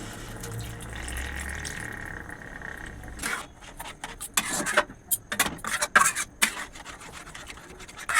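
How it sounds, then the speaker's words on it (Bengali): Water poured into a pan of simmering sardine fish curry with oily spice paste, a close, splashy run of irregular bursts in the second half after a quieter stretch of soft kitchen background. "আমি একটু জল দিয়ে দেবো"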